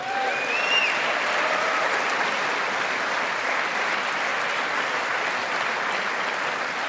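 Sustained, loud applause from a large audience during a political speech, steady clapping filling the whole stretch with no talk over it.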